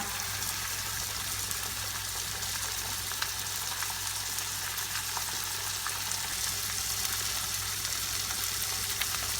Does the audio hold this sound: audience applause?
no